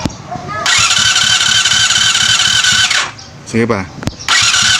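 A Yamaha FZR 250 motorcycle engine cranks on the starter during a compression test, a loud rhythmic whirring chug that stops and then starts again, with a voice speaking briefly between the cranks.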